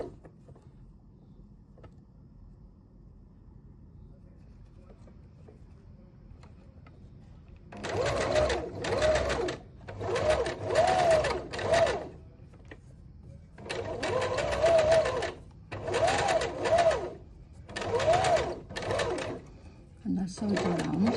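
A sewing machine stitches around fabric for a handmade rose brooch, starting after a quiet stretch and then running in several whirring bursts with short pauses between them, close and steady.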